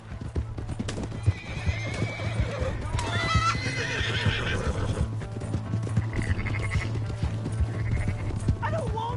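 Video game audio from Red Dead Redemption 2: clip-clop of hooves with a horse whinnying, plus a steady low hum and some barking-like calls, all fairly close and loud.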